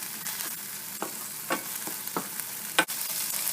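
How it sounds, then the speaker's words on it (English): Turmeric powder and tamarind paste sizzle in a hot pan, a steady frying hiss broken by several sharp spatters and stirring scrapes, with no talking. "I'm going to add the turmeric powder and the tamarind paste now. And just cook this for a few seconds"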